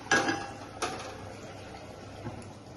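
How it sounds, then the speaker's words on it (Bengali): A metal lid lifted off a pot of simmering chichinga (snake gourd) curry with mustard, giving a sharp clank followed by a second clink and a faint scrape, with soft bubbling underneath. "দেখি ঢাকনাটা উঠিয়ে নরম হয়ে গেছে"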